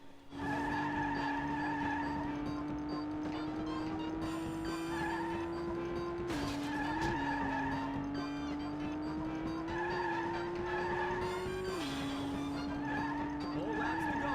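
Engines and tire skids from the Jaleco arcade racing game Overrev: a sustained whining engine tone that climbs and drops with gear changes, with screeching tire squeals and game music layered throughout at an even level.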